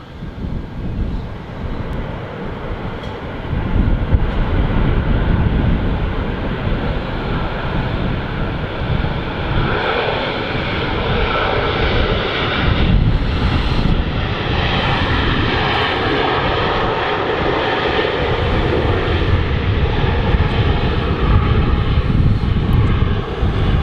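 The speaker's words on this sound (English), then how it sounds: "Jet2 are notorious for using a lot of runway, and they've done so here." A Jet2 airliner at Manchester Airport makes a long runway roll, its jet engines producing a loud, steady rumbling roar with wind buffeting. The sound stays constant throughout, with no talking.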